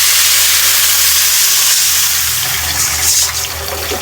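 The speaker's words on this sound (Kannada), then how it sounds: "ಇದೆಲ್ಲನೂ ಚೆಂದ ಹುರಿದ್ಬಿಟ್ಟು ಇದಕ್ಕೆ ನೀರು ಹಾಕೊಳ್ತಾ ಇದ್ದೀನಿ." Water poured onto fried ingredients in a hot pan for an omelette dish, giving a loud continuous hiss and sizzle of steam that fades slightly toward the end.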